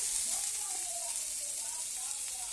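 About ten curry leaves sizzle in hot oil, giving a continuous bright frying hiss with faint crackles, steady and close, for a dal and jeera rice lunch.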